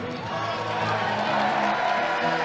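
Crowd at a women's college volleyball match at the Huntsman Center on a Saturday afternoon, a steady wash of cheering and applause that swells slightly, with a commentator talking over it.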